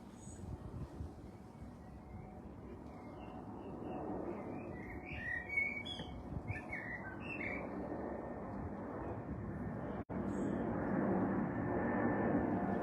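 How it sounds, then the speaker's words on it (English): A low, steady roar of an airplane passing overhead fills the background while birds chirp and tweet nearby. "Another plane's going over."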